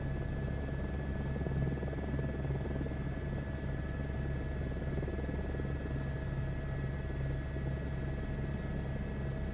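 A simulated helicopter engine in Microsoft Flight Simulator drones at a constant pitch, a steady turbine whine over a low rotor hum, loud and unbroken with no voices.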